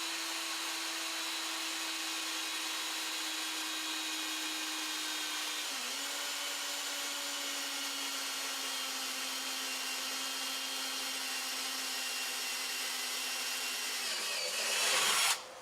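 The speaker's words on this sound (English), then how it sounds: "Again, drilling a little away." A power drill runs continuously for about fifteen seconds, boring a hole in the corner of a water treatment system fitting, with a steady high whine that dips slightly partway through and cuts off abruptly at the end.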